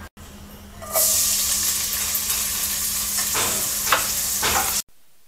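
Chopped onion frying lightly in a pan for a Bengali poppy-seed egg curry, a steady sizzle lasting several seconds with faint stirring scrapes and no talk.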